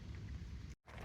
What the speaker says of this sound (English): All right, so it's really raining now.